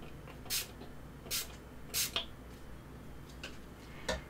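A spray bottle releases a fine mist of peacock blue paint in four short hissing bursts, spaced irregularly and fairly quiet, with no talking.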